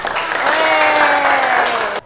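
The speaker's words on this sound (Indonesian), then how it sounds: "Tepuk tangan dong sekali lagi buat Chandra." A class applauding a student named Chandra during a Hindu religion lesson, a short dense burst of clapping under a speaking voice that cuts off abruptly.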